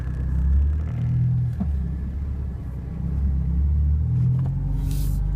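Manual car pulling away as the clutch is released with a little gas, a low steady engine rumble that swells slightly and holds, heard from inside the car.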